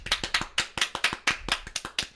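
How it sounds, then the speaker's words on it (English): A small group claps for Andre in a sparse, uneven run of about a dozen distinct, close hand claps, some overlapping, with short gaps between them. "Oh, look at those claps."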